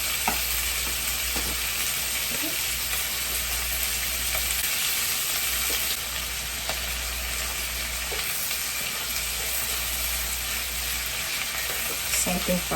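Chunky cowboy butter sizzling and frying in a hot pan with resting steak and its juices over a lowered flame, a steady, loud, dense crackle and hiss that carries on without a break.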